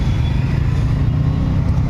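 Heavy, steady low rumble of idling and creeping engines in a traffic jam in Palghar, heard from inside an auto rickshaw, a dense continuous drone with no breaks.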